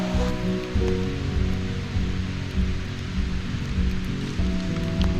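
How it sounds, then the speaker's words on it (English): Rain falls steadily outdoors at an off-grid garden, a continuous wash of patter with a low steady hum underneath and no voices. "it's been raining non-stop"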